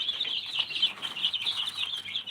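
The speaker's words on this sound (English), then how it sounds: "checking out the progress of these baby chicks that we just hatched out" Newly hatched baby chicks in a brooder peep continuously, a close chorus of high, overlapping chirps with small bursts of louder calls and no other sounds.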